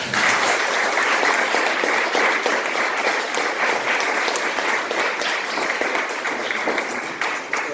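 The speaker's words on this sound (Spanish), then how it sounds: "les pido un fuerte aplauso" Sustained applause from a lecture audience at the Biblioteca Nacional Mariano Moreno, Borges venue, steady and dense throughout, closing a talk by Dr. Pablo Maurette with no voices over it.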